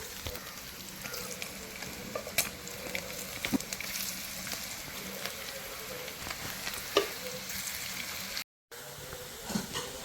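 Squid pieces fry in hot oil with a continuous, crackly sizzle, close and moderately quiet, broken by a few sharper pops and a brief silent gap near the end, with no talk.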